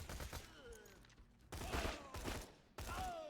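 A minigun fired from the hip in a video game roars in three long sustained bursts, separated by brief gaps, close and loud.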